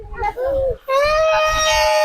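A young child cries loudly and close by at a campsite, giving sustained high wailing sobs with a brief catch of breath between them, over a low rumbling background.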